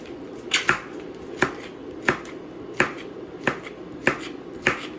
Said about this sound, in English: I'm just going to cut that piece off.